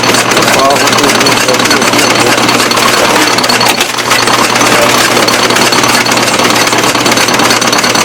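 A gold mill machine in Hill City, South Dakota grinds rocks down to smaller size with a loud, continuous clattering and rumbling, steady from start to finish.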